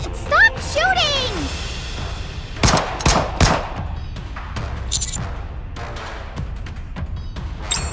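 Rapid gunfire rings out in the Goddess of Victory: Nikke video game: loud, sharp bursts and single cracks in uneven clusters, with brief whooshing effects at the start.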